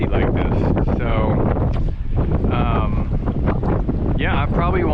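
Wind gusting over muddy, off-color water on a kayak fly fishing trip in Olivia, Texas, a loud continuous buffeting roar on the microphone, with a voice talking over it.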